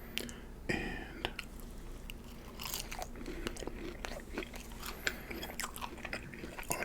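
Close-up eating of fries dipped in cheese sauce, with soft bites, wet chewing and small crunches scattered irregularly over a quiet background, recorded up close in a hushed setting.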